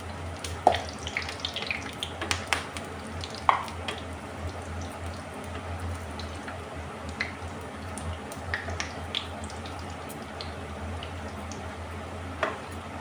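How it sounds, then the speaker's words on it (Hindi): Onion pakoras fry in overheated oil, a steady close sizzle with small pops and crackles scattered throughout, no voices. "तेल ज़्यादा गर्म हो गया था दोस्तों, थोड़ा सा पकौड़े मेरे जल रहे हैं"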